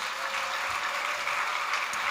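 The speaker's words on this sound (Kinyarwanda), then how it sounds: "Mumfashe dukomere Imana amashyi menshi" Congregation clapping steadily in a church, a dense continuous patter of many hands that holds at an even level throughout.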